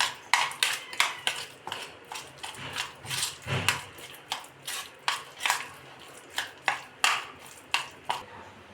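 Prawn cutlet mixture is worked together with tomato sauce in a bowl, producing close, rhythmic clacking and slapping strokes, roughly twenty in a steady beat, with no talking.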